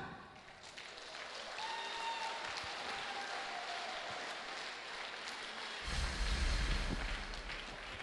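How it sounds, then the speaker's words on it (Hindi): An audience claps at a Safe Shop Topaz recognition ceremony, the applause steady and fairly distant, then swelling louder and fuller toward the end. "तालियां बजाकर उनकी खुशियों में शामिल हों।"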